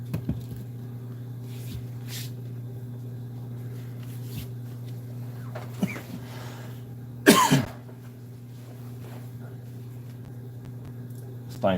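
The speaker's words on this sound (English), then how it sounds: "this thing's got me coughing." One person coughs briefly, close to the microphone, during a seat upholstery job, over a steady low electrical hum with faint handling noises around it.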